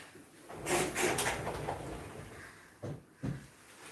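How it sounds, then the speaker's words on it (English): A door creaks and shuts with a couple of soft knocks, followed by two short thuds close by; no talking. "door is closed."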